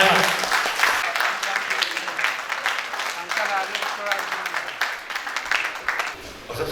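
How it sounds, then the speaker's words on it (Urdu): Lively audience applause at a book launch at an arts council, a dense crackle of many hands clapping that continues steadily throughout, with voices mixed in. "تو آپ کی بہت ساری تالیاں جناب انوار احمد"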